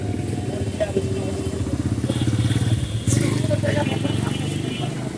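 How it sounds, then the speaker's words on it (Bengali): A motorcycle engine drones and putters nearby on a village outing to see cattle at Eid, its rough running tone continuous under people talking. "মোটরসাইকেল আছে।"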